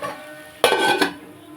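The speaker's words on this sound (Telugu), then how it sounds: "మనం ఒక నిమిషం మూత పెట్టుకుందాం." A metal lid is set onto a cooking pot with a clatter and a second clink, short and close, after a quiet stretch of faint sizzling.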